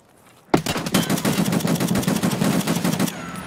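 Automatic gunfire in the video game Escape from Tarkov erupts suddenly as a loud, rapid burst of shots that lasts about two and a half seconds before stopping, with no talk over it.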